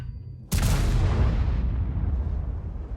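The Obj 268 V4 tank destroyer's cannon fires in a video game battle as one sudden, loud, deep boom that rolls off into a long rumbling decay, with no speech.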